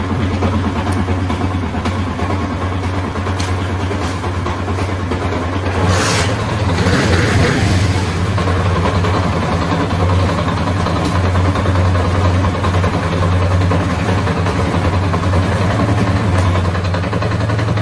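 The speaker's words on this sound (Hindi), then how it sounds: "ये बाइक यहाँ पे स्टार्ट है, तो रेस छोड़ने पर ना देखिए आइडल स्पीड पे खड़ी है" Old Honda CD 70 motorcycle engine idling steadily at close range, a continuous low putter with a brief louder burst partway through.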